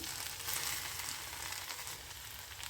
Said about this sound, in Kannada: ನಿಮಗೆ ಇನ್ನೂ ಕ್ರಿಸ್ಪಿ ಬೇಕು ಅಂದರೆ ಇನ್ನೊಂದು ಚೆನ್ನಾಗಿ ಕ್ರಿಸ್ಪಿ ಆಗೋವರೆಗೂ ಸಹ ಫ್ರೈ ಮಾಡ್ಕೋಬೋದು